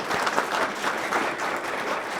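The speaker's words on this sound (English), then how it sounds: "Carol deserves a round of applause for all her work." An audience gives steady, even applause at a library system's 75th anniversary ceremony, moderately loud and continuous with no voices over it.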